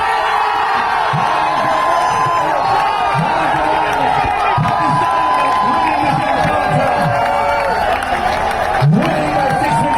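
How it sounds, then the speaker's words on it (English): A crowd at the Hong Kong Cricket Sixes cheers and celebrates a cricket win, a loud, continuous roar of shouting voices with whoops that holds steady throughout. "The crowd is celebrating her."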